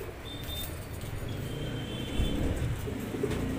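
Breeding pigeons coo softly in the background at a pigeon loft, low throaty calls over a faint ambient hum, with a small clatter midway.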